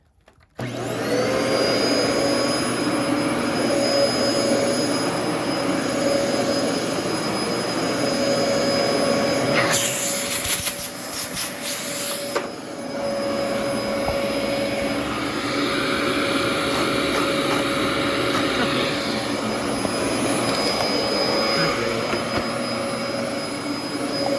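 An old Fantom vacuum cleaner with a worn clutch runs loud and close, a sustained whining motor drone with a steady high tone, a brief rougher burst partway through, and no speech.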